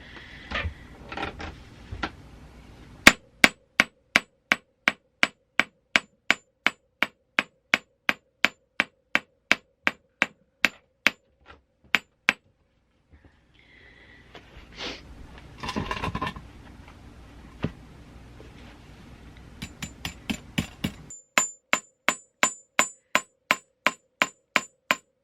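Brass hammered by hand in goldsmithing work, long series of sharp ringing metallic strikes in steady rhythm, broken by a pause with scraping and handling noise before the regular blows resume.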